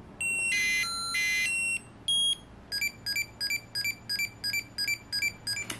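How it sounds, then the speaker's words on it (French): Bright electronic game tones from a first-generation Tamagotchi play: two longer warbling melody bursts, then a brief beep, then a quick run of evenly spaced chirps. "Mais surtout le son des jeux, attendez je vais vous le mettre."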